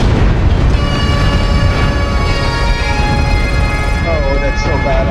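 Heavy booming missile explosions in MechWarrior Online rumble continuously under droning mech cockpit sounds, loud and close.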